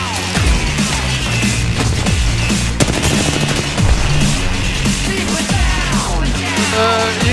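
Dense gunfire in the video game Apex Legends, with rapid automatic bursts and overlapping shots that stay loud and continuous, plus scattered impact and explosion-like hits.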